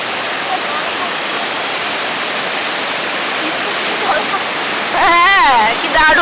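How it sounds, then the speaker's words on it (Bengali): Changey Falls in the Kolakham hills pours over pebbles in a steady, dense rush of water, with a voice briefly speaking near the end. "সামনেই এটা আশা করছি ছাঙ্গে ফলসেরই একটা পার্ট"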